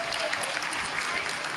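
Mission control staff applaud during the Chandrayaan-3 moon landing descent, a brief burst of steady, dense clapping at moderate volume.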